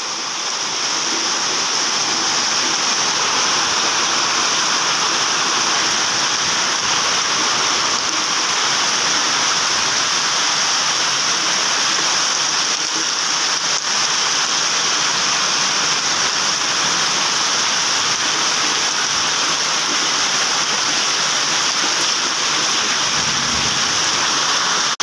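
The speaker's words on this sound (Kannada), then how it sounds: "ನೋಡಿ ಶೀಟಿಗೆ ಹಾಕಿರೋ ಪೈಪಲ್ಲಿ ಎಷ್ಟು ದಪ್ಪ ನೀರು ಬರ್ತಾ ಇದೆ." Heavy rain pours steadily off a roof sheet and gushes through its drainpipe in a thick stream, a loud, unbroken roar of splashing water close by with no voices.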